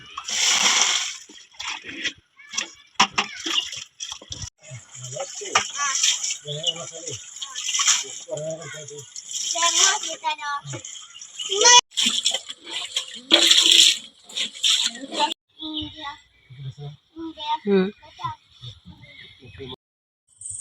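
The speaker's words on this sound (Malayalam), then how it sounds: "ഷെജമോനും ദീദിയും കൂടി ഇതിൻ്റെ അടിയൊക്കെ തുടച്ച് വൃത്തിയാക്കുന്നുണ്ട്" Water sloshes and splashes with scrubbing and scraping inside an echoing water tank being cleaned for use as a homemade swimming pool, while people talk throughout.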